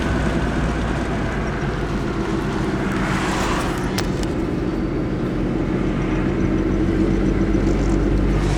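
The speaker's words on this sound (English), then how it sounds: "Maybe there's a lot of cars behind me." Road traffic passing close by, a loud continuous low engine rumble and tire roar with no break, heavy and steady for the whole stretch.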